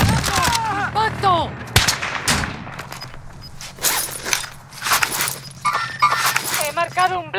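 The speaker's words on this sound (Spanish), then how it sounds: "¡Están disparando!" Gunfire in the video game Call of Duty: Modern Warfare, loud bursts of automatic fire and sharp single shots with crashes and footsteps, mixed with shouted voices and radio chatter throughout.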